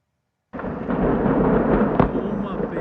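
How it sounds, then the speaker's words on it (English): Deadly explosion and fire in Esparto, captured in news footage: after half a second of silence, a sudden loud broadband roar erupts and rumbles on steadily, with a sharp crack near the two-second mark. "That is the explosion right there."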